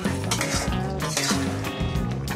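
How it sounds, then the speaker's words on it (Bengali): Fried potatoes tumble into a pan of sizzling tomato curry, with spoon clatters and stirring scrapes against the metal over a steady frying hiss, close and busy for a couple of seconds. "এখন এর মধ্যে আমি আলুগুলো দিয়ে দিচ্ছি।"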